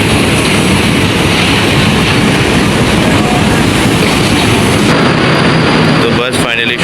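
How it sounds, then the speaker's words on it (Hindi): The Khyber Mail passenger train pulls into Lahore station with a loud, continuous rumble and roar of cars on the rails filling the scene, easing toward the end; a voice talks over it. "हमारी ट्रेन खैबर मेल आ चुकी है और वेलकम टू लाहौर"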